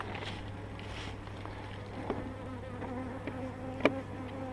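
Honey bees hum steadily at a hive during a spring inspection in Meylan, a soft, continuous buzz with a low drone under it and a few faint knocks and clicks, with no talking.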